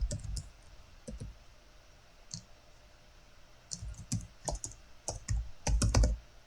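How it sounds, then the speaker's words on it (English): Someone types on a computer keyboard, with short bursts of clicking keystrokes separated by pauses, then a quicker run of keys near the end, close and clear with no talk. "we can go in here and type in Fire Knight"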